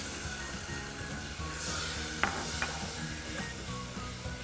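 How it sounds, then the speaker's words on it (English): Butter, sugar, milk and cocoa powder are stirred together in a pan for no-bake cookies, with a soft continuous scraping and gentle sizzle, plus a few light clinks of the spoon against the pan. "you just want to mix this together until it starts boiling"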